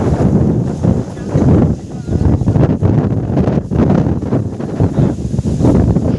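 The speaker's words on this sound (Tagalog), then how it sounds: "Malakas ang hangin. Mga brothers, ang hangin sa amin dito ay parang bagyo na." Strong, storm-like coastal wind buffets the microphone in loud, gusty roars throughout, with a voice faintly talking underneath.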